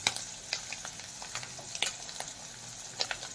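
Fish frying in oil in a pan until browned, a steady soft sizzle with small scattered crackles and pops throughout, no voices.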